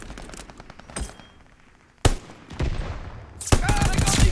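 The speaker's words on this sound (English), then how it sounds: "That's friendly mortar fire coming." Friendly mortar fire lands in the Call of Duty Vanguard video game, a castle battle with three sharp, loud impacts over rapid machine-gun chatter and ongoing gunfire.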